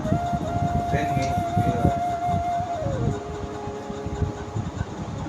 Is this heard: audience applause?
no